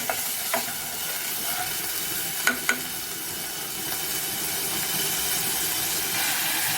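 Vinegar poured over garlic in a hot pan for Egyptian koshari, a loud steady hissing sizzle with a few sharp spatters and scrapes, no one speaking.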